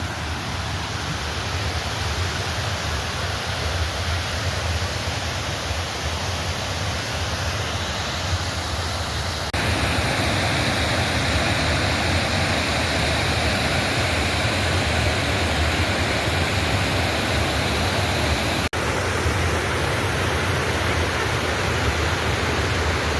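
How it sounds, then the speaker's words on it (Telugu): Anantapur check dam waterfall roaring steadily as a dense, continuous rush of falling water, loud and unbroken from start to finish with no voices. "ఇది ఫ్రెండ్స్ అనంతపురం వాటర్ ఫాల్స్"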